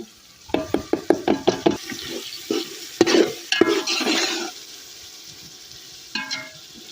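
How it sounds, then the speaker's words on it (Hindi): Carrots frying in masala in a pan in a village mud-house kitchen, with a run of sharp, rhythmic stirring scrapes, then a louder burst of sizzling that fades to a soft hiss, and a final brief stir. "हम गाजर पा के फ्राई कर लैनी।"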